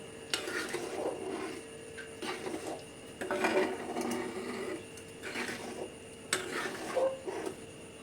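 A spoon stirs cooked dal in a pot in several separate bursts of scraping and knocking against the metal, heard up close with short pauses between rounds and no voices.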